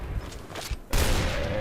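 Gunfire in the shooter game Point Blank: a sudden loud burst of shots erupts partway through and keeps up steadily to the end, following a quieter stretch.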